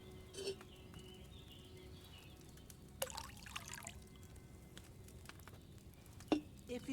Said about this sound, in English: what did you pour in there? Wine